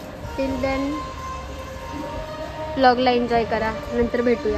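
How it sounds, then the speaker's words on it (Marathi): A passenger train slowly pulls out of a station, its rumble and a tonal horn-like sound rising toward the end while a person talks close over it. "आमची ट्रेन सुटली आता, हे बघा स्टेशनवरनं निघते ट्रेन"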